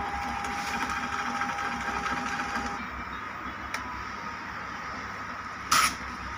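A TVS LP46 Delight label printer runs a label with a steady mechanical whir that stops partway through, followed by quiet hum and a sharp click near the end.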